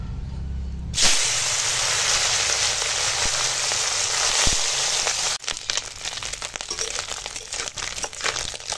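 Small fish sizzle and hiss steadily in hot oil, a dense continuous crackle that swells loudly after a quiet start and then turns more irregular and spattery.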